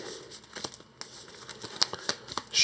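A deck of cards for the Earthborne Rangers board game is shuffled up close, giving a rapid run of crisp, papery riffling and crinkling bursts over a few seconds.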